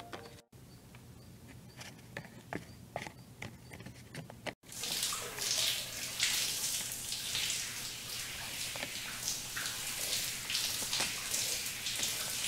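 Shower water runs and patters steadily, faint at first and then louder and denser after a brief break, with no voices.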